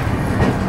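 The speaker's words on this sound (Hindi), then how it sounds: "प्लेटफॉर्म नंबर 3 पर बिल्कुल डॉट ऑन टाइम 3:40 पे हमारी कोणार्क एक्सप्रेस आ चुकी है।" The Konark Express rolls along the rails with a loud, steady, close rumble and clatter, and no voices.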